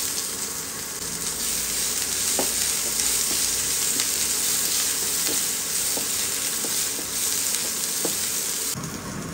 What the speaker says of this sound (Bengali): দেখো ডালটা এখন সাঁতলাবো, তার জন্য পেঁয়াজ, পাঁচফোড়ন, শুকনো লঙ্কা আর একটা কাঁচা লঙ্কা